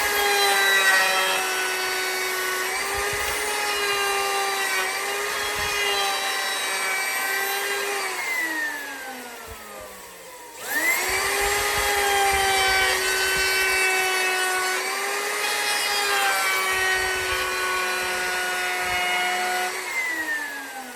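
Router fitted with a half-round bit shaping a piece of lumber into a cigar box guitar neck, a loud steady high-pitched whine that drops and dips mid-pass before spinning back up to full pitch.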